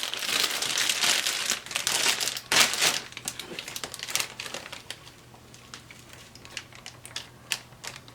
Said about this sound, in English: I'm going to pour my marinade in this bag.